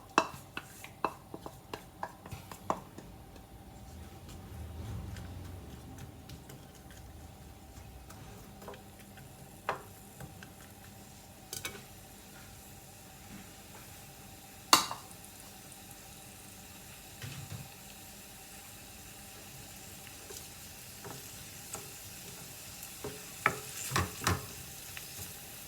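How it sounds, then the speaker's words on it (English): Sliced onions frying in a pan for an Anglo-Indian chicken curry, a soft continuous sizzle with occasional sharp clinks and scrapes of a spoon stirring, close and unaccompanied by talk. "We'll fry our onions very well."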